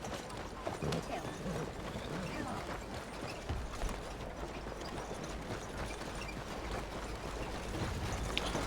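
Horse hooves clip-clop at a walk in Red Dead Redemption 2, a soft steady patter with creaking tack under low ambient game noise.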